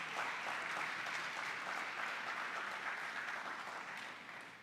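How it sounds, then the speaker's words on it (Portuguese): A church congregation claps steadily through a Sunday celebration service, a dense, sustained wash of applause that fades slightly toward the end, with no talking over it. "Dá um aplauso ao Senhor aí"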